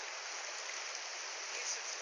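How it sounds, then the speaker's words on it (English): Steady broadband rush of swift, shallow water in the first braid of the braided Rangitata River, a constant close hiss with no pauses. "The first braid of the Rangitata River. It doesn't look that deep, but it's pretty swift."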